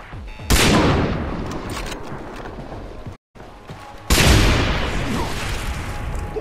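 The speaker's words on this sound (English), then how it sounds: "I exploded his tank" A tank explodes in the video game Far Cry 3: two loud, sudden booming blasts with long rumbling decays, set among bursts of gunfire and a brief dropout of sound between them.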